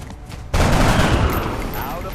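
Sustained burst of video game gunfire from XCOM Long War erupts abruptly and continues as a dense, loud rattle of shots, with a voice talking faintly underneath.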